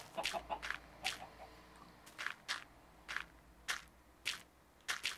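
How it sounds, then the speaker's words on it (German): Minecraft chickens clucking in short, separate bursts, faint and scattered, with soft scratchy sounds between the calls. "Hühner haben wir auch ein paar."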